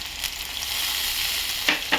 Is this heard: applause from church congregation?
no